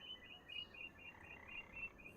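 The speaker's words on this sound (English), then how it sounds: "There's some frogs down here." Frogs croak near the water in the farming game Farming Simulator 25, a faint, steady run of repeated chirping calls over soft ambient background with no talking.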